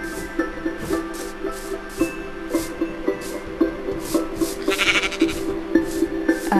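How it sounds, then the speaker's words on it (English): Sheep in the Minecraft video game bleat repeatedly, a steady series of loud, close, evenly spaced game bleats running throughout with no talking over them. "No sheepies? Where are my sheeps?"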